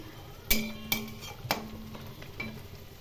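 Pabda fish curry (jhal) simmers in a pan with a soft, steady sizzle, broken by a few sharp metal clinks of a spoon against the pan.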